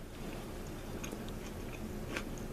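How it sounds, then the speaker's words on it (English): Someone bites into and chews a large Chesapeake Bay shrimp roll sandwich made with Gulf shrimp. Soft, close, muffled crunching and chewing runs steadily through the moment, with no talking. "Let's take a bite."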